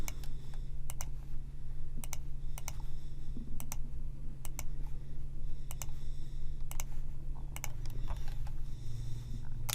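Mouse clicks on a computer during analysis software work, scattered sharp single and double clicks at irregular intervals over a steady low hum.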